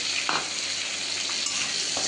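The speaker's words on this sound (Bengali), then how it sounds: "তেলে একটু পাঁচফোড়ন দিয়েছি একটু চিংড়ি মাছ দিয়েছি" Shrimp frying in hot oil with panch phoron spices, a continuous close hissing sizzle with a few soft stirring scrapes.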